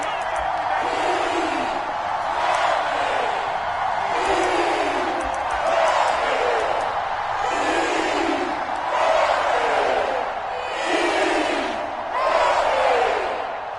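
A stadium crowd in an EA Sports football video game roars in rolling waves that swell and fade every couple of seconds, loud and broad.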